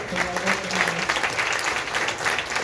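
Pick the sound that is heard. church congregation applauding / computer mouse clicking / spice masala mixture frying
church congregation applauding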